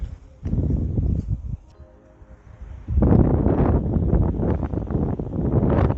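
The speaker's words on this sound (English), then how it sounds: "the wind is even picking up more" Wind gusts across an open disc golf course and thumps the microphone in loud, uneven rumbling bursts, easing briefly midway before surging again.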